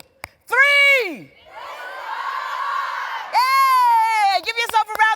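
An event audience yells and cheers together in two loud bursts, the first rising sharply and falling away, followed by scattered crowd noise, then a second swell of shouting that breaks into short cries.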